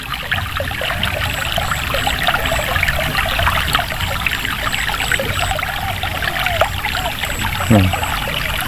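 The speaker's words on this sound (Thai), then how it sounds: "เปิดน้ำทิ้งก่อน เปิดน้ำทิ้งก่อนตรงนี้เพื่อน" Water drains out of a flooded rice field after heavy overnight rain, a continuous trickling, gurgling stream running close by, with a few faint splashes and no clear talk.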